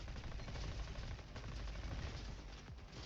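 Rapid automatic gunfire from the Trauma Blaster in RoboQuest, a dense, steady stream of shots filling the whole clip.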